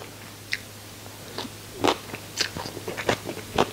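Crisp bites and crunchy chewing on deep-fried sillago fish filled with roe, a series of sharp close crackles at irregular intervals against quiet background.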